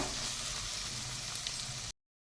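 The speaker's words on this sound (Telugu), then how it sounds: "ఉల్లిగడ్డ మంచిగా మగ్గించుకోవాలండి" Chopped onions sauté in oil in a pan for tomato rice, a steady, even sizzle that cuts off abruptly before the end.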